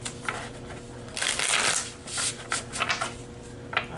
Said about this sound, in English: I'm going ahead and shuffle these before reveal the entire deck.